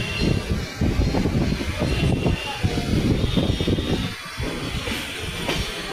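A Naihati local train pulls into Bibadi Bag station in Kolkata, its loud rumble and wheel clatter filling the space and easing off slightly toward the end.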